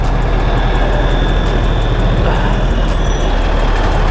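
A Bajaj Pulsar 150 UG5 BS4 motorcycle engine runs at a steady idle after a timing chain repair, a loud, close, continuous drone without breaks or rhythm changes.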